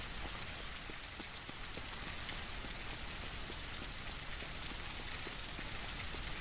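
Steady rain falls in the zombie survival game SurrounDead, a dense, even hiss of drops on surfaces running unbroken throughout with no talk.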